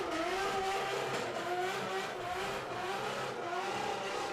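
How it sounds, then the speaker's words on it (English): A drift car engine revs in first gear at a pro drifting event at Watergrasshill. It is faint and distant, with rising and falling whines under steady background noise. "Doesn't sound laggy there in first gear, Alan."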